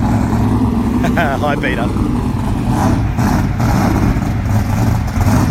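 A big block twin turbo Mustang at a drag strip testing day, its engine a dense, continuous roar and rumble filling the whole stretch, with a person speaking briefly over it.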